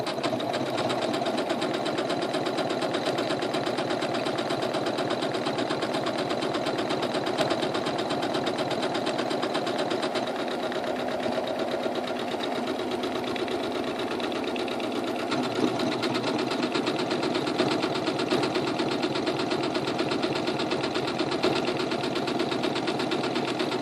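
A Janome Skyline S7 sewing machine stitches a buttonhole, giving a steady, loud, close mechanical whir with a rapid even needle rhythm that runs unbroken for the whole stretch, with no talk over it.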